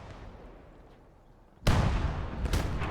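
Main gun of a Churchill tank firing in the Gates of Hell: Ostfront battlefield, one sudden loud blast after quiet rumble, with a second heavy report and sustained roar following close behind.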